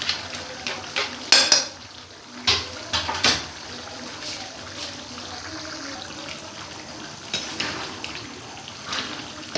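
Beef karahi cooking as tomatoes, green chillies and ginger are stirred in, with a spoon scraping and clanking against the pan in several sharp bursts over a steady sizzle of frying.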